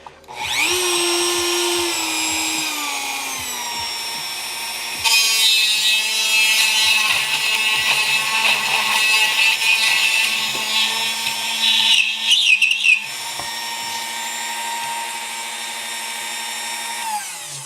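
A drill press whirs steadily at close range, its pitch shifting with rising whine and grinding as the bit catches, with a brief dip around twelve seconds before the motor settles again.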